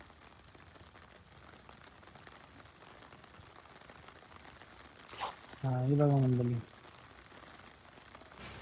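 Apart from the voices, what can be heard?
heavy rain falling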